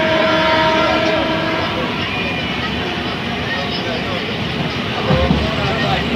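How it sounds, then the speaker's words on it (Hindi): A train pulls into Fatima Junction station, a loud, steady rumble of rolling wheels and carriages with a drawn-out horn tone running through it, heard up close throughout. "ट्रेन अभी फातिमा जंक्शन स्टेशन में घुसने वाली है।"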